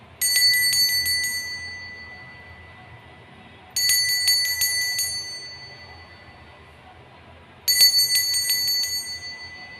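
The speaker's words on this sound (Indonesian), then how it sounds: "Kita akan mulai dengan ditandai lonceng berbunyi." A bicycle bell rings three times, each bright metallic ring spaced a few seconds apart and fading out, with no talking.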